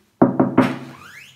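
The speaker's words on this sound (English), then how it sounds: "we'll just knock on the door, shall we?" Three quick knocks on a house's front door, close and solid, with a short ringing tail after the last rap.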